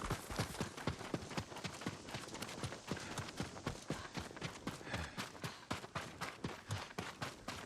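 Horses' hooves in the video game Ghost of Tsushima, a fast, steady clip-clop of hoofbeats on hard ground, close and continuous throughout with no voices.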